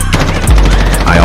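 Video game gunfire in Roblox Brookhaven, with a quick, loud burst of several shots in rapid succession over about a second.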